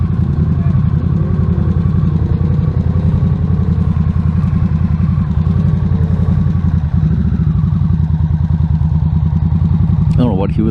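A motorcycle engine drones loud and steady while riding through Milwaukee city streets, its low rumble constant throughout with rising and falling pitch as the bike shifts, and a brief sharper noise near the end.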